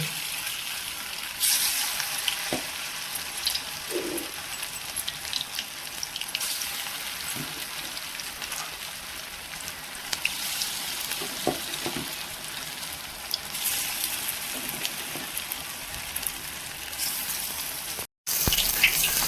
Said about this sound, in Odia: ଦେଖନ୍ତୁ ବର୍ତ୍ତମାନ ଆମର ପକୋଡ଼ି ଏଇଭଳିଆ ଛାଣିଥିଲେ